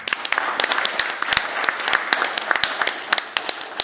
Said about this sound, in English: I'll need 2 rounds of applause